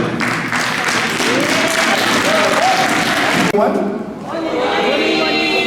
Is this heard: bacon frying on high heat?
no